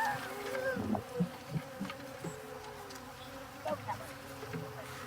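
A swarm of bees buzzes steadily after being shaken from a branch, with a dense drone and occasional louder passes of individual insects close by, outdoors and without speech.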